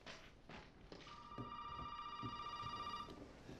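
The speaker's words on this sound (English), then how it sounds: "The phone is ringing." A telephone rings inside the Resident Evil 7 horror game, a steady tonal ring lasting about two seconds amid faint thuds and ambient game noise, fairly quiet overall.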